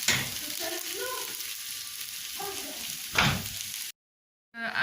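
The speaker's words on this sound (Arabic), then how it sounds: "تنحركو كاع المكونات" Vegetables being stirred in a pan, giving a steady close sizzle with scraping strokes and a louder clatter near the end, then a brief silence before the sizzle returns.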